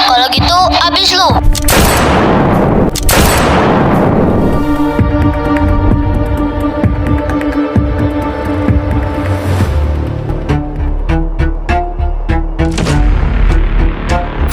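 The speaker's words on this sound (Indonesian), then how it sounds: "terdengar suara tembakan" Staged gunfire from Dutch soldiers in a school drama: loud, dense bursts of shots and booms that fill the scene, with a throbbing rumble and ringing tones continuing underneath.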